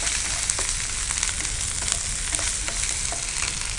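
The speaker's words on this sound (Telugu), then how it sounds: "అల్లం వెల్లుల్లి పేస్ట్ పచ్చివాసన అంతా పోయేంత వరకు ఫ్రై చేసుకుంటే సరిపోతుంది" Ginger garlic paste with turmeric frying hard in a pan for a cucumber mutton curry, a dense, loud, continuous sizzle with faint scraping stirs scattered throughout, no voices.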